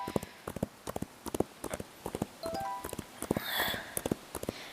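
Horse hooves clip-clop in a steady walking rhythm in the Roblox game Wild Horse Island, crisp and close, with a few soft electronic game tones and a brief whoosh mixed in.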